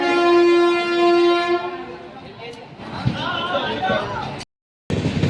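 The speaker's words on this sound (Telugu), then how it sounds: "ట్రైన్ వెళ్తుంది ఇక, కదిలింది." A train in India pulls away from a crowded station with a long, steady horn blast, followed by rumbling rolling-stock noise as it gathers motion, while people talk nearby.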